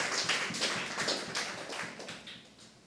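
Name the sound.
congregation clapping hands in church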